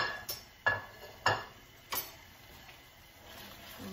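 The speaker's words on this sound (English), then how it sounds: "Give it another stir." Pasta Amatriciana stirred in a pan, a few distinct metallic clinks of a utensil against the pan at irregular intervals, quiet and close, followed by soft scraping.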